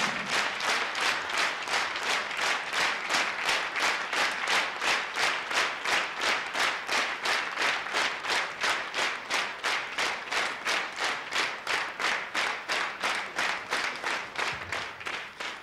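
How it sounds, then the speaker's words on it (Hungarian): Concert audience claps in a steady rhythmic unison beat, loud and sustained for the whole stretch and slowly fading near the end, with no speech over it. "Nagyon szépen köszönjük a tapsot."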